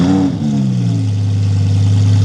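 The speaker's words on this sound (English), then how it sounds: "the Valvetronic cold start." Cold start of a Lamborghini fitted with a Valvetronic exhaust: a brief rising flare at the start, then it drops into a loud, steady, deep idle that hums on without any talking.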